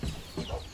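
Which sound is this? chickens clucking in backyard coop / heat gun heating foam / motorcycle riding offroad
chickens clucking in backyard coop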